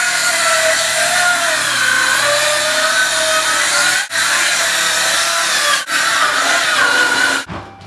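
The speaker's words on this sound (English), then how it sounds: "I'm going to set the depth on my skill saw to 3/4." Circular skill saw set to a 3/4 inch depth cutting through a rotted plywood subfloor, a loud sustained whining buzz with the blade pitch shifting under load, briefly dipping twice and winding down at the end.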